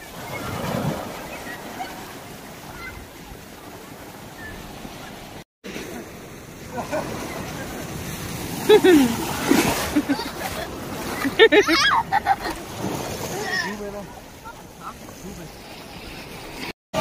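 Big ocean waves roll in at Kala Pathar beach on Havelock island, a constant wash of surf with louder surges and splashes. People chat over it throughout.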